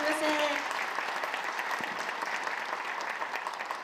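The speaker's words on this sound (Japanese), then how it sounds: "どうぞ大きな拍手お送りくださいませ。" Sustained audience applause filling a hall after a keynote lecture at a Tokushima environmental learning forum, dense and steady throughout, with a faint voice briefly audible at the start.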